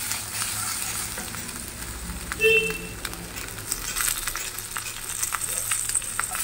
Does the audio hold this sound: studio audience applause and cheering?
no